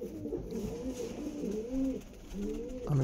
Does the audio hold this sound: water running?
no